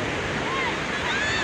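Surf at Jimbaran beach in Bali, a fishing and tourist shore, roars as a steady broadband wash of waves with wind, continuous and fairly loud with no break.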